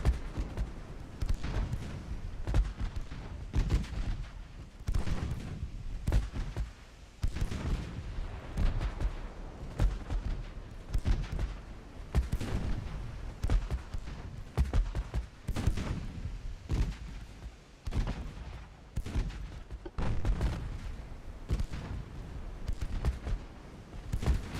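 Heavy naval gunfire from 12-inch guns in a video game campaign battle: a dense, continuous run of deep booming shots and thuds that overlap in rapid succession across the whole stretch, loud and close with no pauses.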